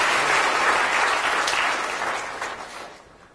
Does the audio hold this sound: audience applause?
yes